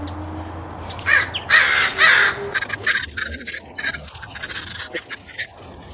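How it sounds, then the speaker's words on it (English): Crows caw outdoors near a herb garden, a few loud harsh calls up close followed by quieter, scattered caws and rustling. "This crow has been quite talkative all day."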